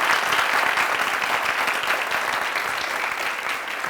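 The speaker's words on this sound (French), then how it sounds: "Il faut les applaudir." Loud, steady applause from a crowd for children on a TV show, dense continuous clapping that holds at full strength for several seconds.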